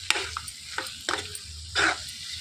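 Rajma and potato curry being stirred in a pan, with a handful of short scraping strokes and a soft sizzle between them. Nobody speaks.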